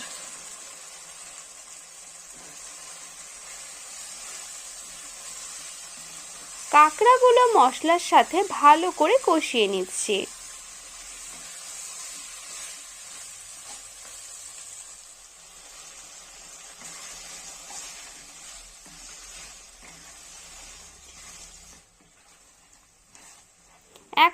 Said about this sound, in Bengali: সমস্ত কিছু ভালো করে মিশিয়ে নিয়ে এরপর আমি এর মধ্যে দিয়ে দিচ্ছি কাঁকড়াগুলো